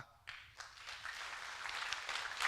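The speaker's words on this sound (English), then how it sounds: "I think as teachers, we must clap." Teachers at a teachers' convention clap in a scattered, moderately faint burst that builds slightly over a couple of seconds, with a few distinct claps standing out in the room.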